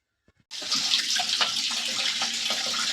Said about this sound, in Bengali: এই যে দেখুন কল খোলা বাসন ধুচ্ছি